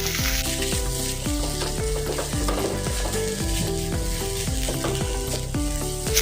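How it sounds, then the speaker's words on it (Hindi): Masala with ginger-garlic paste sizzling steadily in a pan while being roasted and stirred for a Gobhi Patodi Rassa curry, with repeated scraping strokes of the spoon running through the continuous frying hiss. "ये देखिए अच्छे से भी ये मसाला भूनकर तैयार हो गया अपना"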